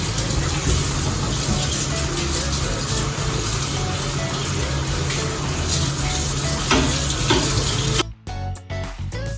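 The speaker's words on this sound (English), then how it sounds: "Let me at least try and wash it so that it can be clean." Tap water runs hard and steady into a sink while an improvised cooking utensil is rinsed, a loud continuous gush that breaks up near the end into splashes and drips as the flow stops.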